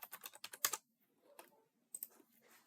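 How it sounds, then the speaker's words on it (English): Quick bursts of keystrokes on a computer keyboard as an equation is entered into an online calculator, close and fairly crisp, with a pause mid-way before a final short flurry of taps. "I'm going to type that equation in."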